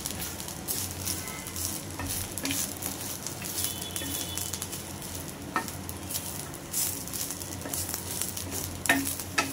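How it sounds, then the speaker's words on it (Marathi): Grated coconut, peanuts and parwal peels roast in a pan with a soft continuous sizzle and faint scraping as they are stirred, close but quiet, with no talk. "मी खोबरं, शेंगदाणे आणि परवरच्या साली भाजून घेतल्या"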